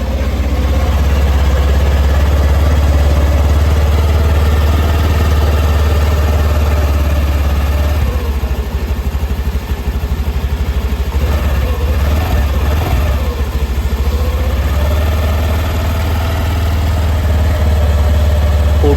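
A 2025 Honda Dio 110 DX scooter idles with a steady, loud, low engine and exhaust drone that stays unbroken and close throughout, with a slight wavering in the middle.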